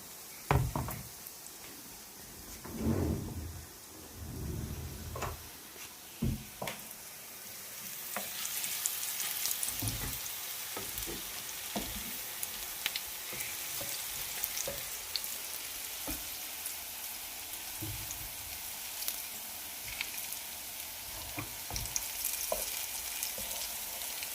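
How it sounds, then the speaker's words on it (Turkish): Vegetables fry in a years-old pan for zucchini fritters. Scattered knocks and clatters come first, then a steady bright sizzle that runs on to the end, close and moderately loud, with no talking. "Biraz daha kızarsınlar."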